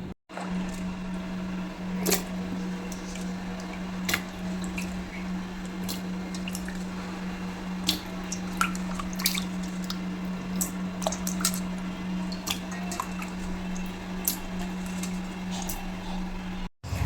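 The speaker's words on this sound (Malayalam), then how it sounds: "മൂന്നാല് വെള്ളത്തിൽ നല്ലപോലെ ഒന്ന് കഴുകിയെടുക്കണം" Grapes are washed in water: soft squishing and dripping with scattered small splashes and clicks over a steady low hum, close and continuous, no talking.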